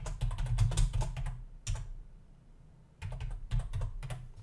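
Typing a folder name on a computer keyboard, with rapid clustered keystrokes in two bursts separated by a short pause, close and clear with no talk.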